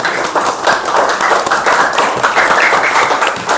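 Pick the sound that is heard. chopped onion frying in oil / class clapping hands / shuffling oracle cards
class clapping hands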